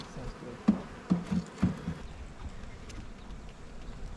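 Bees buzz faintly around the listener, with a few soft knocks and thumps scattered through a quiet outdoor background.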